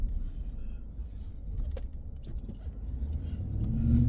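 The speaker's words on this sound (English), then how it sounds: "Oh, car coming." A car on the road rolls past, a low engine and tire rumble that holds steady and then swells louder toward the end as it draws near.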